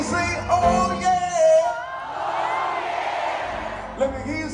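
Concert audience at a show at Yaamava Resort & Casino shouting back a response in unison, a broad roaring crowd cry after a singer's amplified call, with cheering swelling then easing.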